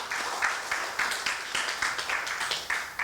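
A church audience claps in thanks, steady rhythmic applause with evenly spaced beats, moderately loud and filling the room without voices over it.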